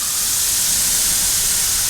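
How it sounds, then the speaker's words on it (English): Spray gun painting a Jeep at extra low air pressure, a loud, steady, broadband hiss that runs unbroken throughout. "I'm gonna spray this with extra low air pressure."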